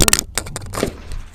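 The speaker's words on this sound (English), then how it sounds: "Drop my microphone. Sorry about the noise." A sudden clattering thud and scrape of a dropped microphone knocking and rattling against a surface, close and brief, followed by quieter rustling, during .22 target rifle shooting at 25 yards.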